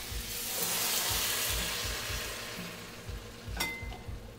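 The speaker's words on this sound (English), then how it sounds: "So I'm just going to dump this wine in here." Red wine is poured into a hot pan for a lasagna sauce, producing a broad rushing sizzle that swells and then eases, with a brief clink near the end and no voices.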